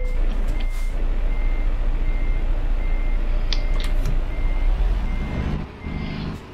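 Reversing beeps sound from a truck in the driving game Euro Truck Simulator 2, a regular series of high electronic tones over a loud, steady engine rumble that dips near the end.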